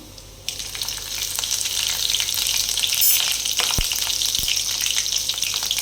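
Green chillies hit hot oil already crackling with mustard seeds and cumin, starting a loud, dense sizzle for a tomato egg curry, with a few sharp pops through the frying.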